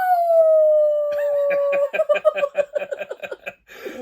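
A person imitates a long, drawn-out howl with a falling pitch, then breaks into rapid, choppy laughter-like yips. Close, clear and fairly loud, with nothing else under it.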